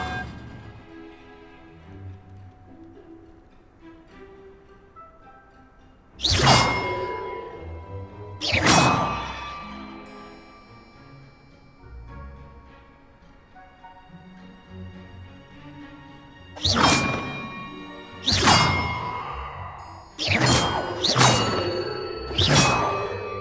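Bells in the Hogwarts Legacy video game ring out one at a time, each a loud metallic clang with a long decaying ring, spaced irregularly with several strikes coming in quicker succession near the end.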